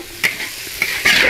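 Spare ribs with onion, scallion and celery are tossed in a wok over a steady sizzle, with a few distinct scraping strokes of the spatula against the metal, close and clear.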